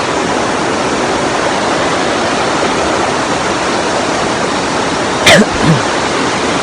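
The Jodo River rushes loudly and steadily as a dense, continuous roar of flowing water close at hand, with a short faint whistle-like sound near the end.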